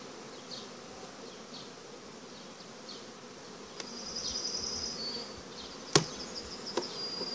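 Honeybees hum softly around an opened upper hive box, a faint steady drone with a few individual bees buzzing past close by and sharp clicks or taps of hive equipment near the end.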